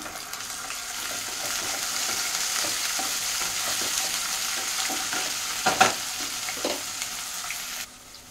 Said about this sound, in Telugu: ఇప్పుడు అల్లం వెల్లుల్లి పేస్ట్ వేస్తాను. ఇక్కడ నేను 1 స్పూన్ వేస్తున్నాను. మిక్స్ చేద్దాం.